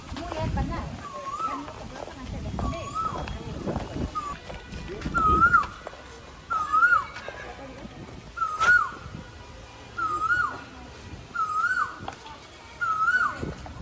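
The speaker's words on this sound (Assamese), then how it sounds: "ওপৰত কুলিৰ মাত ওলাইছে, কুলি চিঞৰি আছে" An Asian koel calls repeatedly at regular intervals, rising whistled notes over outdoor background noise in a park in Tezpur, with a few bumps and rustles early on.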